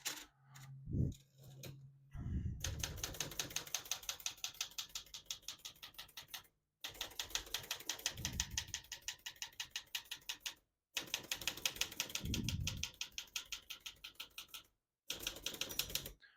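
A 1933 Olivetti Lettera 33 portable manual typewriter clatters in quick, even bursts of keystrokes, pausing briefly between runs, with heavier carriage clunks now and then.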